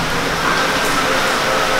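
Steady rain falls hard and close, a dense unbroken hiss of drops striking a surface with no voices over it.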